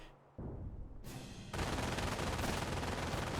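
Dense, continuous machine gun fire in a Company of Heroes World War II battle, a German MG position shooting in rapid overlapping bursts that swell louder midway and hold steady without voices.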